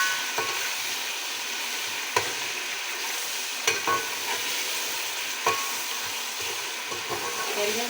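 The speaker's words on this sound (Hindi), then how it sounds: "और साथ इसमें जाएंगे टमाटर। इसको ज़रा अच्छी तरह भून लें ताकि लहसुन अदरक का कच्चापन ख़त्म हो जाए।" Tomatoes frying with garlic and ginger in a pot, a steady close sizzle with a few sharp stirring clinks and scrapes throughout, no voices.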